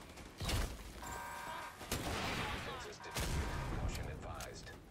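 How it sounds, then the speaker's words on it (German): Rockets fired at a cannonball wagon during the Iron Horse raid's Morozova boss fight in Destiny-style game combat: a few heavy booming blasts and bursts of gunfire over constant battle noise, with speech present. "die Raketenspieler schießen wieder Raketen auf den Wagen mit der Kanonenkugel"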